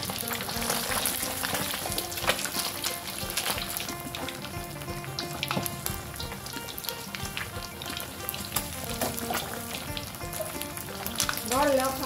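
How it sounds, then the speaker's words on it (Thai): Tilapia fries in hot oil in a home kitchen and southern Thai curry paste is stir-fried, a constant dense crackling sizzle with occasional spatula taps and scrapes throughout. "เอามาทอดปลากันก่อนนะคะทอดปลาเสร็จแล้วเราก็มาผัดเครื่องแกงกันค่ะผัดพริกแกงนะคะ"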